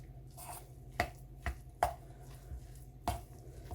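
A spoon stirs soya mince paste, making soft, scattered taps and clinks against the container, faint and close with quiet gaps between strokes.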